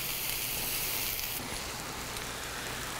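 Mushrooms saute in a pan for chicken tetrazzini, giving a steady, soft sizzling hiss with no talk, close and even throughout.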